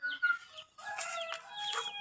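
A chicken gives a few close, sharp clucks and squawks in quick, uneven bursts, with no talk over them.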